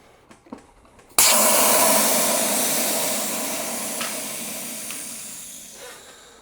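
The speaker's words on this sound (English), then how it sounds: "Letting out all that air." Air rushes out of a bicycle tire fitted with a CushCore insert and pumped to 40 psi, opening with a few faint clicks, then a sudden loud hiss that slowly fades while continuing to the end.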